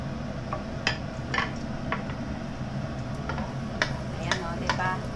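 Chopped garlic sizzles softly in oil over a low flame while sautéed bitter gourd is prepared, giving a steady low hiss with scattered small ticks and pops, quiet and close.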